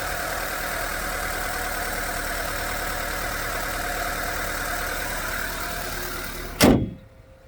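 A 1999 Honda Civic's original engine idles steadily and close for several seconds, then a sharp thump like a door closing ends it, leaving near silence.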